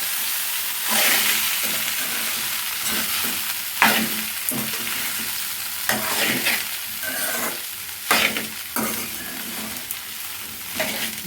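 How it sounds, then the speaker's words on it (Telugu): Washed flattened rice (poha) being stirred into an upma mixture in a pan, with repeated scraping strokes of a spoon over a steady close sizzle, louder at each turn of the mix. "కడిగి పెట్టుకున్న అటుకులు ఇందులో వేసుకు ఇప్పుడు బాగా కలబెట్టుకోవాలి"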